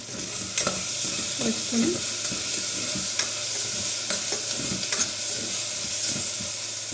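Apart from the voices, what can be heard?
frying onions and curry leaves in a pan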